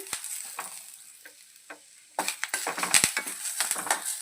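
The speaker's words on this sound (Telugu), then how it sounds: "కరివేపాకు కూడా దోరగా ఫ్రై చేసుకోవాలండి." Curry leaves frying in oil in a pan while making a drumstick-leaf spice powder: faint crackles and stirring scrapes at first, then a louder burst of sizzling and spattering with repeated stirring for the rest of the stretch.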